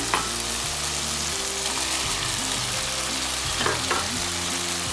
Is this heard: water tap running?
no